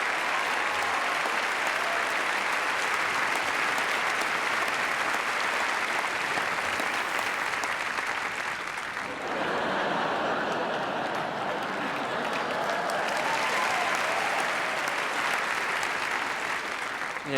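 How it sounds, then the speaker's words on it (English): Sustained, loud audience applause at a stand-up comedy show as a comic takes the stage, a dense roar of clapping mixed with crowd cheering that shifts in texture partway through. "Please give him a round of applause as he takes centre stage"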